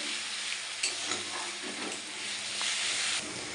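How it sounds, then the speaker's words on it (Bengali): Garlic sizzles in hot oil in a home kitchen pan for biryani, with a steady close hiss and a few scraping stir strokes. "এবারে রসুনটা দিয়ে দেবো এবার রসুনটাকে ভালো করে লাল করে ভেজে নিতে হবে"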